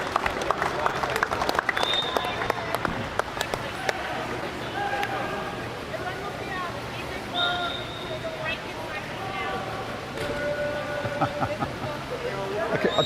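A crowd cheers and applauds the state champion junior water polo team at a gold medal match, loud sustained clapping and cheering mixed with voices and scattered whistles.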